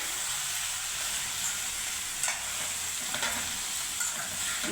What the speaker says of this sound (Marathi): छान तेलामध्ये याला मिक्स करायचे व्यवस्थित मसाल्यामध्ये